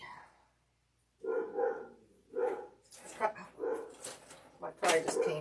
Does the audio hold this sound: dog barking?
yes